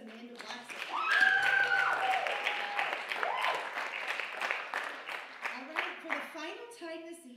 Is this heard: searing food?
no